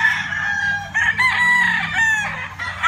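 White Kelso gamefowl in a breeding pen cluck and crow loudly up close, overlapping calls from several birds filling the short stretch.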